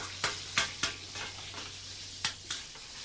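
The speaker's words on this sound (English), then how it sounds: "Salmon goes onto the bed of onions and garlic and the olive oil." Salmon hits a hot pan over a bed of onions, garlic and olive oil in a Galician restaurant kitchen, giving a steady loud sizzle with several sharp utensil scrapes and taps spaced irregularly through it, no voices.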